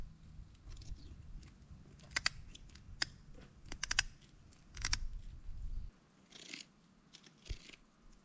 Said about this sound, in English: So I'm gonna see if my shears will cut through.